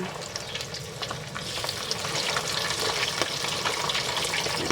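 Farm-raised catfish deep-frying crisp in a pan of hot oil, a loud and continuous close sizzle with bubbling crackles and occasional spatters throughout, with no talking.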